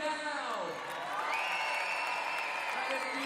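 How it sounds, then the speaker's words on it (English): A large arena crowd cheers and whoops loudly for a school dance group, a sustained roar with high voices rising over steady applause. "If you thought Sacred Heart School were the best, cheer now!"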